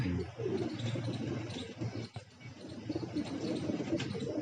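A pigeon at least five years old coos in low, soft, repeated calls close by, with faint background movement and no speech.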